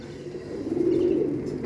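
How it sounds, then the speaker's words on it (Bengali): Pigeons at a pigeon seller's loft, Kalsira Andhra, Mundi Sada, Jiria and Madrasi breeds, cooing in a low, soft, rolling murmur that swells in the middle and then fades, close by with no talk. "সুপার মেচিয়া পায়রা আছে"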